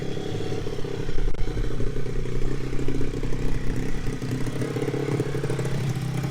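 2014 SSR 160TX pit bike engine idling high with a small leak, a close, rough, steady putter with some clattering and slight rises in revs.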